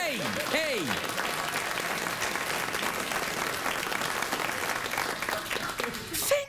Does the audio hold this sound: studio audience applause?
yes